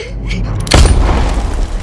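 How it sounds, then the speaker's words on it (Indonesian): A single sharp, booming pistol shot cracks out loud over a dramatic background rumble, ringing briefly before settling under a sustained music-like bed, in a film scene. "dan Camille pun menembakkan pistolnya"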